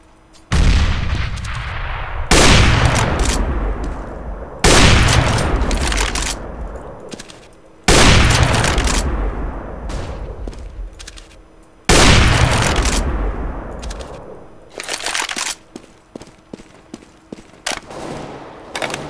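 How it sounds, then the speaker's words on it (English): Counter-Strike gameplay on de_mirage brings a series of loud explosive grenade-like booms and gunfire bursts, about five big blasts each decaying over a couple of seconds, followed by sharper scattered shots near the end. "I'm throwing a grenade."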